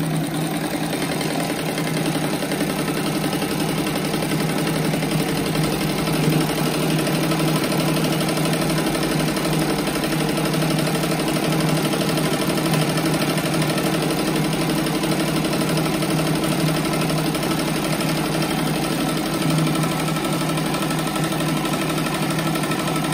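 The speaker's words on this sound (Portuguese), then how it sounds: "Daí agora eu vou passar uma costura toda a volta." A sewing machine runs a continuous seam around the border of a square patchwork rug made of small pinned squares, sewn with black thread. It gives a steady, even mechanical whir and hum with no pauses, close by and without talk.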